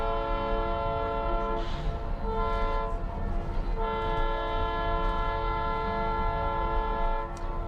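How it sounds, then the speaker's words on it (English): A Georgetown Loop Railroad steam train near Black Hawk, Colorado blasts a loud, chord-like horn, held long with a couple of brief breaks, close and dominant over the rumble of the moving train. "He's got such a loud horn,"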